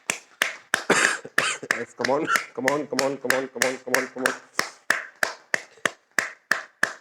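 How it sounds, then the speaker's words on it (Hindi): Rhythmic hand clapping during a group energizing exercise, sharp regular claps repeating steadily through the whole stretch while a voice calls out encouragement over them. "आप तालियों को बजाइएगा आनंद के साथ, बहुत स्फूर्ति के साथ"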